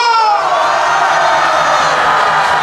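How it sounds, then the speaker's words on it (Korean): A crowd at an outdoor political rally in Chuncheon roars with loud cheering, shouts and whoops, a sustained dense mass of voices heard close and continuous throughout. "애국 시절의 시민 여러분을 위해서 함성과 박수!"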